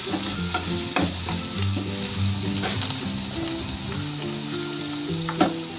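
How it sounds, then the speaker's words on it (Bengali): Ginger paste frying for chicken kosha, a steady sizzle under repeated scraping stirs of a spatula against the pan, with occasional louder clanks and no talking. "এবারে আদার পেস্টটা দিয়ে দিলাম আবারও একবার নেড়ে নিলাম ভালো করে নাড়তে থাকলাম"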